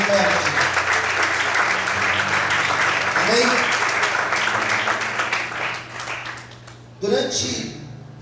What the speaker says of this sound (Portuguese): Você pode aplaudir o Senhor muito forte?